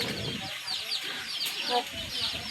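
Several chickens cluck and chatter close by in a busy, overlapping flock, continuous throughout the short stretch.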